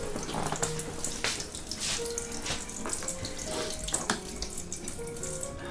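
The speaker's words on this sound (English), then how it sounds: "If you run the artery in your wrist under a cold tap" Cold water running steadily from a kitchen tap into a sink, a constant faint splashing hiss with small bumps and clinks in the background.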